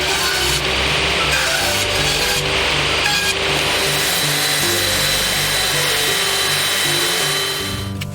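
Wood being worked by a power tool to shape a filler strip, a steady loud whirring drone with shifting tones running throughout, easing off slightly at the very end.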